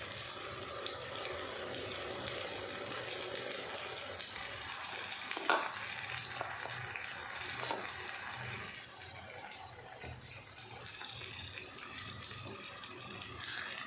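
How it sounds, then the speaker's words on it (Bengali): Water poured into a cooking pan holding already boiled food, a steady broadband wash of pouring and faint sizzling running throughout at moderate level, with no speech. "একটু জল দিয়ে দেবো"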